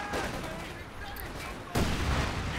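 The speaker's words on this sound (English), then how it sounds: "Incendiary artillery" Incendiary artillery landing in Company of Heroes 2, a rumbling barrage of explosions under a commentator's voice, with a sudden loud impact crashing in near the end.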